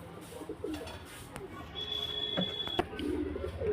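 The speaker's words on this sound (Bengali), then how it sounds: "পায়রাটা ইয়ে এগোচ্ছে দেখুন" A pigeon at a bird market in Beldanga, among birds kept for sale, coos faintly in short soft notes, mixed with a few clicks and a light background hum.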